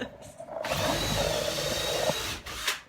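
A power drill with a 1/8 inch bit bores out rivets on an Airstream trailer, a steady high whine lasting about two seconds after a brief start, then a short burst of drilling at the end.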